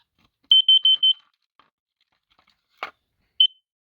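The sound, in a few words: carbon monoxide smoke detector alarm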